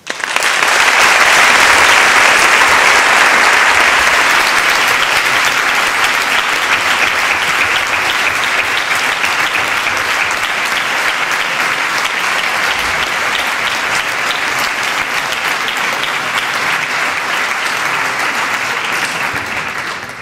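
A large audience at Tomelloso's Fiesta de las Letras gives a warm welcoming applause to the writer José María Merino, loud, dense, sustained clapping filling the hall for some twenty seconds without a break.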